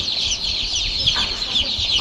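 Colour-breed chickens on a poultry farm clucking in a continuous busy chorus, a dense flock sound with occasional louder clucks standing out.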